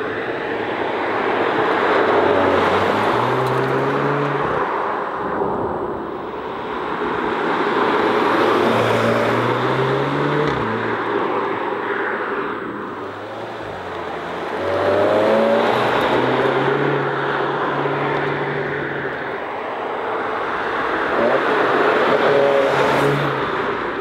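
A 300 hp all-wheel-drive Seat Leon Cupra compact with a DSG gearbox drives on the street, its engine swelling and fading in repeated waves of acceleration and gear changes, loud and close throughout.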